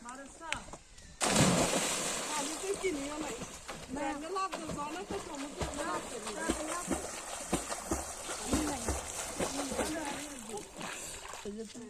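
Someone jumps into a village pond during net fishing, making a sudden loud splash followed by water sloshing and rippling. Several people talk and shout excitedly over it.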